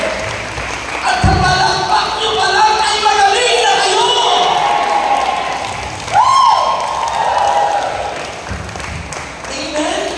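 A church congregation claps together during a healing service in Cavite, a loud, sustained wash of applause with a preacher talking over it and a brief whooping call partway through.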